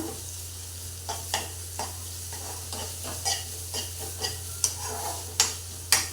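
Ginger-garlic paste and finely chopped green chili fry in a pan for bhindi masala, with a steady sizzle over a low hum and regular spatula taps and scrapes every half second or so.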